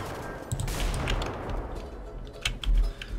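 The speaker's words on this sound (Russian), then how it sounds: "стрельба там идет вовсю" Gunfire fills a battle in the video game Ravenfield: a dense, continuous crackle of shots with a few heavier booms, loud and layered, with no voices.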